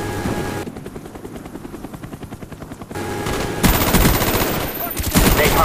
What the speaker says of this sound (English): enemy Cobra heading your way